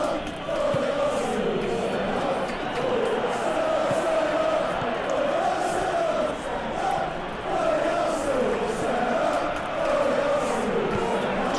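Stadium crowd noise in a football video game, a sustained roar with swelling chants and cheers rising and falling throughout, under the bed of the match.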